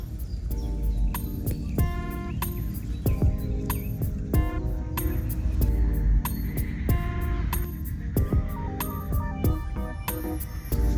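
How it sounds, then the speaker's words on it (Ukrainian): Birds sing and chirp outdoors in a repeated chorus of short whistled notes, with a low continuous croaking and humming bed behind them, moderately loud and steady. "птахи співають, позаду мене жаби квакають"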